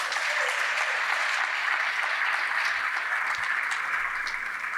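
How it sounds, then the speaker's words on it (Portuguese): Sustained applause from an audience at a competition final as the CEO is called to the stage, a steady, dense clapping that holds at an even level throughout. "a quem eu peço uma salva de palmas"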